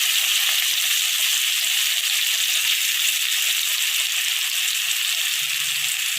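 Raw mango pieces, green chillies and whole spices frying in hot mustard oil, a steady loud sizzle that holds without pause, with faint stirring rattles.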